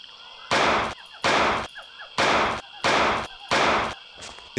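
Five loud, sharp gunshot blasts in the video game We Were Soldiers, evenly spaced with short gaps between them and a faint background ambience underneath.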